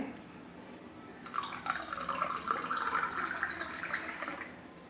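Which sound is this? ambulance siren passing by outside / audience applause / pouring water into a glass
pouring water into a glass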